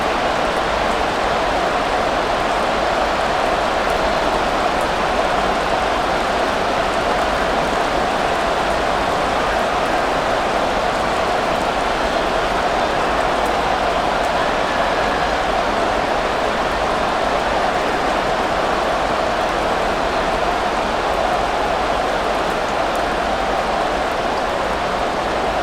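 Steady rain falling during a football game in Madden NFL 24, Houston All-Time Texans versus New York All-Time Jets, a constant even hiss throughout, with commentators talking over it.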